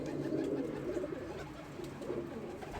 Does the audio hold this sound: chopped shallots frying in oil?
no